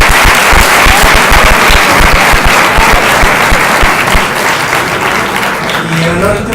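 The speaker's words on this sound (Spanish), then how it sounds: "Ya nos seguimos con un aplauso, por favor." Audience applause for a congressman taking the stage at an education reform talk series, loud and dense clapping throughout, tapering slightly near the end as a voice begins.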